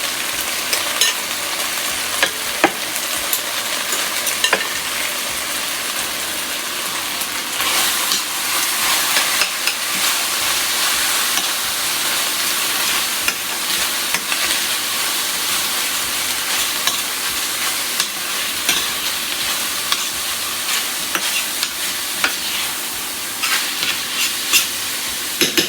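Peppers and onions fry in a pan, a continuous close sizzle with scraping and stirring clicks scattered throughout.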